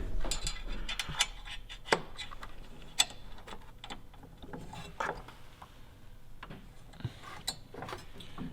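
Torque wrench clicking and ratcheting on the windshield bolts of an Indian Challenger motorcycle, several sharp metallic clicks and short ratchet bursts at close range, with no talk.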